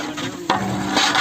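A huge pot of chicken biryani, about 450 kg, is churned with a big paddle, making a dense scraping, hissing wash of sound with one sharp knock halfway through.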